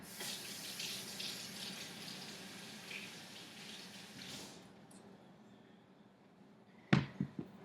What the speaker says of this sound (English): I'm going to quick go scrub those off a little bit.